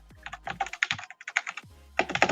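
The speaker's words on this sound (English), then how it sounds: "instead of typing it down here, I'll just do it right here" Close, crisp keystrokes on a computer keyboard come in rapid uneven bursts, with a brief pause midway before the typing resumes; no one talks.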